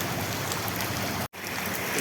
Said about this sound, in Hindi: ये देखिए पूरी बारिश है।